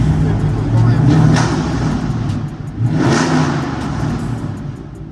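A Dodge Hellcat Striker's engine revs loudly and close, a sustained roar that swells twice as the throttle rises and falls on a city street.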